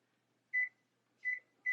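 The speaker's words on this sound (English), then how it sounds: "Oh, yeah, the timer's going." An air fryer timer beeps three times, short clear electronic tones with gaps between them in an otherwise quiet kitchen.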